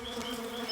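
Bees buzzing all around in a cave at night, a steady, close, continuous drone with layered whining tones, no voices.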